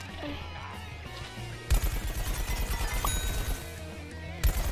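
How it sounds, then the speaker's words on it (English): Rapid automatic gunfire rattles in a video game, a dense burst of repeated shots starting abruptly and running for a few seconds, fairly loud and close. "These guys are shooting me."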